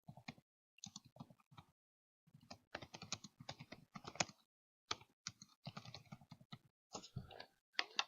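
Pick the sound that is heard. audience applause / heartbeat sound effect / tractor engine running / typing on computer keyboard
typing on computer keyboard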